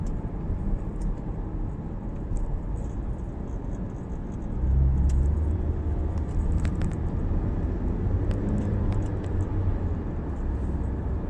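Car engine running after treatment with A72 King catalytic system cleaner, a steady low rumble that swells into a heavier rev about midway and then holds, with faint vibration and no voices.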